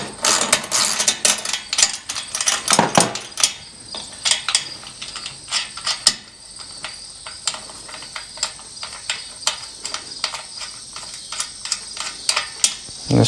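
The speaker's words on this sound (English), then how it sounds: "I just pop this nut loose" Sharp metallic clicks and ratcheting ticks from a wrench working a nut loose on a garage door torsion spring carriage bolt, coming in rapid irregular bursts up close with short pauses between them.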